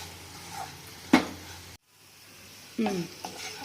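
Raw banana (aratikaya) pieces sizzle softly in a pan while a utensil scrapes and stirs them in two sharp bursts, separated by a short break in the sound.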